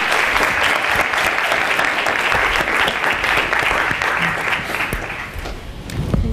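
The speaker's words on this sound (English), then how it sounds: "How about a round of applause for the panel?" Loud, sustained applause from a large audience for a panel at a student leadership summit, dense and steady throughout, tapering slightly near the end.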